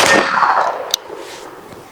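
An air shotgun fires once with a sharp, loud crack close by, following a brief burst of hissing noise; a faint ring lingers afterward in otherwise quiet surroundings.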